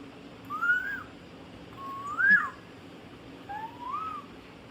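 A 17-month-old toddler imitates a koel's call with three rising, whistle-like cooing notes spaced about a second and a half apart, close and moderately loud over quiet background.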